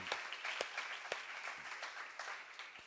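A church congregation claps, soft and somewhat distant. Scattered sharp hand claps stand out over a steady wash of applause.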